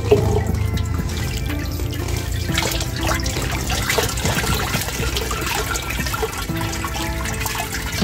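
Liquid organic fertilizer is poured over plants in a steady, close splashing stream that runs continuously at a fairly loud level.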